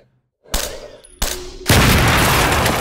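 Gunshots crack in STALKER: Shadow of Chernobyl, two sharp shots after a brief silence, then a loud sustained roar as a barrel explodes, filling the rest of the clip.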